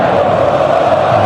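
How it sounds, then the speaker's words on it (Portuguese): Dense roar of more than 45,000 Corinthians supporters in a packed stadium at the 2015 Brazilian championship-winning match, a steady loud crowd wash with no breaks, sustained cheering throughout. "Torcida campeã, empolgada, mais de 45 mil no estádio."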